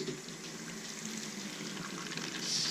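Hot rainwater runs steadily from a tap, giving a continuous hissing splash with no pauses that swells slightly louder at the end, with no talking over it.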